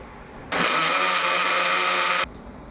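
A mixer grinder blending cream with ice water whirs loudly at full speed for about two seconds, starting and cutting off abruptly against a quiet background.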